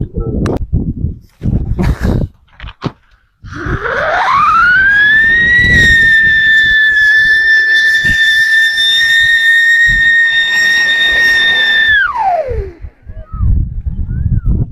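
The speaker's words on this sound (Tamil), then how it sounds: "அடுத்தது வந்து சைரன்." A siren firecracker screeches upward into a loud, sustained whistling wail for several seconds before dropping away, preceded by a few sharp bursts and faint noise.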